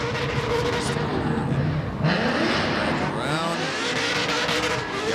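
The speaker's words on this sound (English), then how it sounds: "Man, that car sounds so good. It's a very loud car" A loud drift car screams through a run at a drifting competition, its engine revving hard with bouncing limiter notes and tire squeal while an announcer talks over it.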